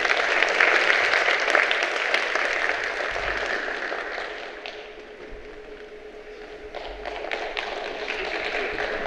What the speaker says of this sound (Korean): 큰 박수로 맞이해주시길 부탁드립니다